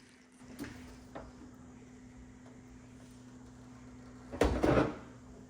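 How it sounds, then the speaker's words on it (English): A Samsung wall oven door is lifted off its hinges with two hands: a couple of light knocks come first, then a louder clunk and rattle near the end, over a steady low hum. "You're gonna lift the door with 2 hands. And then as you lift, it's gonna come right out."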